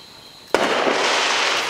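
A single sharp July fireworks bang bursts after a quiet moment, followed by a crackling, hissing wash that lingers.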